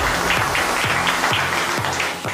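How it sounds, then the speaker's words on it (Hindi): Clapping from onlookers at a chowmein eating contest with a cash prize: continuous crowd applause runs throughout, fairly loud, with tonal sounds mixed in over it. "एक बार तालियां फिर से बजा दो दोस्तों।"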